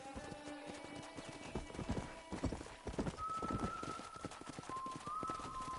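Horses clip-clop in a quick rhythm by a corral in a video game, with a drawn-out neigh near the end over a constant background hum.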